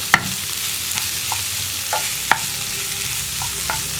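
Vegetables for a beetroot masala dosa filling being stirred in a pan over low flame, with a soft steady sizzle and a few sharp spoon scrapes and taps against the pan, close and alone.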